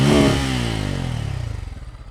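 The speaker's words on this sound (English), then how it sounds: "That's a nice sounding exhaust." Exhaust of a Bajaj Pulsar N250 motorcycle, a loud close burst that quickly fades into a pulsing idle burble.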